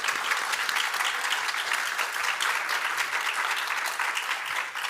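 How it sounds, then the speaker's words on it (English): Dense, steady applause from an audience at a public talk on greening healthcare, sustained at an even level for the whole stretch with no voices standing out. "Can I have a huge round of applause, please, for Amanda, David, and Rashmi?"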